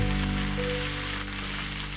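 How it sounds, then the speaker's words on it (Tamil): Pieces of Chintamani chicken fry in hot oil, a close, steady sizzle with a fine crackling hiss over a low hum, continuous and fairly loud throughout. "இன்னும் கொஞ்சம் நேரம் இந்த எண்ணெயிலே கொஞ்சம் நல்லா ஃப்ரை ஆகட்டும்"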